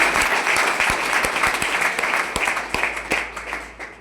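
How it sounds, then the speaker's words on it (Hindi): A crowd claps loudly in sustained applause at a talk, gradually thinning out toward the end. "ताली बजा लें।"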